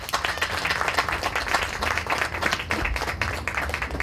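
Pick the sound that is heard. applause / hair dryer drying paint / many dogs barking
applause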